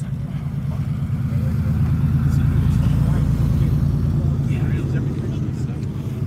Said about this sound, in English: Look at that old Porsche.